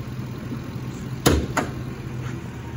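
A 2005 Lincoln limousine engine idles with a steady low hum throughout, broken by two sharp knocks close together midway.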